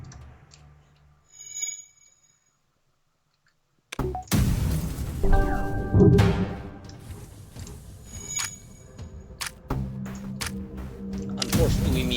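Ship weapons in FTL fire at an enemy vessel, with sharp blasts and impacts breaking out after a quiet pause, mixed with ticking game tones and electronic beeps.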